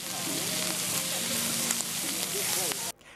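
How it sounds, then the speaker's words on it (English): Steady, close sizzling and crackling of seafood frying and smoking on a giant pan outdoors at a foreshore food event, with faint voices in the background before it cuts off abruptly. "Sizzling seafood smoking on this giant pan."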